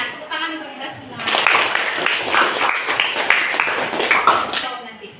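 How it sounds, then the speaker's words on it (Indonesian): A school class breaks into clapping after a quiz game, swelling after a quiet start into a busy patter of hands with voices and cheering mixed in. "Tepuk tangan untuk kita semua."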